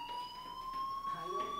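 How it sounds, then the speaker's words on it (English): A steady electronic fire alarm rings inside a school building in the video game Life is Strange, a continuous high tone holding level throughout, with faint background activity beneath it. "Hey, do you hear that fire alarm?"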